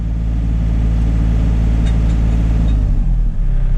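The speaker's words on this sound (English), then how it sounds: "You see the drum should come to a stop" A hydraulic brush cutter mulcher drum on a SANY SY35U mini excavator winds down after its flow is cut, with a loud steady engine rumble throughout and a low tone that sags near the end.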